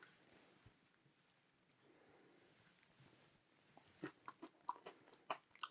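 Someone crunches on spicy, buttery roasted peanuts, a rapid run of close, crisp bites and chews in the last couple of seconds after a quiet stretch.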